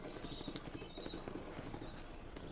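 A horse's hooves clop steadily across the ground in the video game Red Dead Redemption, a faint, continuous trotting rhythm set against a low ambient hum.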